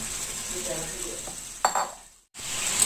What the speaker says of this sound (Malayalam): ഇത് തിളച്ചു വന്നിട്ടുണ്ട്.